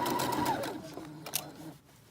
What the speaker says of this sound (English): I'll just stitch my side seam